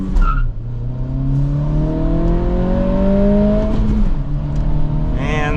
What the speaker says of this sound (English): So let's do a run.